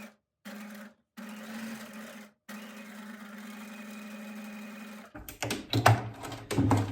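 Sewing machine stitching folded fabric tucks, a steady close mechanical whir running in bursts with short pauses, then rougher clattering and louder knocks near the end.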